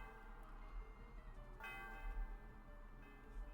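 A bell rings in the video game PokeMMO, giving a tonal chime with resonant overtones under a constant game background and low hum. A brighter strike lands midway, and no one speaks.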